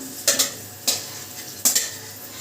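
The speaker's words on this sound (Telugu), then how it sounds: "మనం కిస్మిస్ని హీట్ చేసుకొని నెయ్యిలో ఇలా ఫ్రై చేసుకున్న తర్వాత ఒక ప్లేట్లోకి తీసేసుకుందాం" Raisins fry in hot ghee in a pan under a soft steady sizzle, while three quick, bright scrapes of a stirring spoon stand out close and clear.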